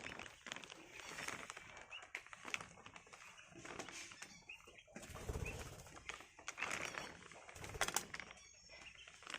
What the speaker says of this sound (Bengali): দেখতে পাচ্ছ সব বদ্রি পাখি,